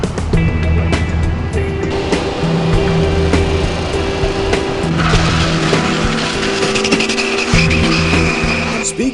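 Chevrolet four-wheel-drive diesel trucks with about 2,500 foot-pounds of torque drag racing at a strip, a loud sustained engine roar with tire squeal and skidding throughout, rising in intensity partway through, with no talk.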